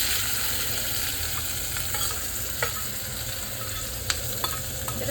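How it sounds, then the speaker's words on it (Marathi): Chillies for a spicy vada pav chutney are tempered in hot oil, giving a loud, unbroken sizzle up close with a few faint clicks of a utensil, and no one talking. "त्या मिरचीला आम्ही फोडणी देणार आहोत"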